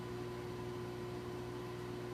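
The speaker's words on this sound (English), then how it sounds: "microwave it for about 15 seconds at a time until it's soft" A microwave oven hums steadily while softening chopped butter in a bowl, giving a constant, even drone with a faint fan-like hiss and no talking.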